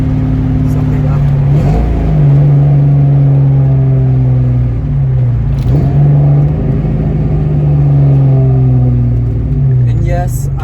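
A car engine revs up and down in repeated swells as the driver downshifts, rising pitch sweeps recurring every few seconds, loud and close, with speech over it.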